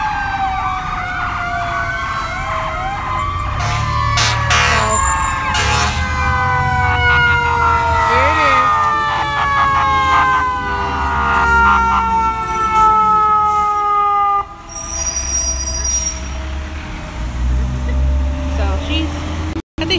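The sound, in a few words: ambulance siren approaching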